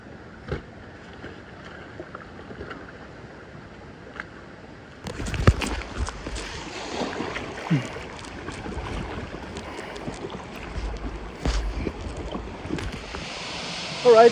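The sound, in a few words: kayak going down a shallow river with ripples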